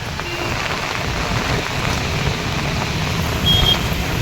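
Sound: heavy rain falling

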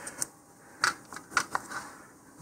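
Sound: masking tape being applied to a rocket motor liner tube

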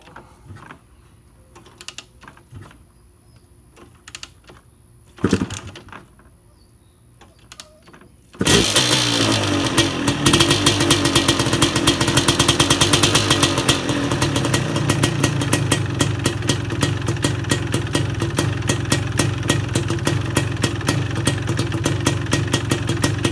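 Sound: old engine started with the choke, Heinz 87

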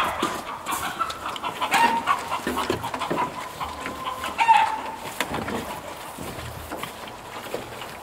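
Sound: chickens clucking

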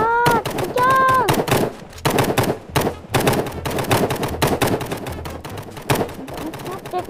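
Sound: gunfire in video game Hide Online

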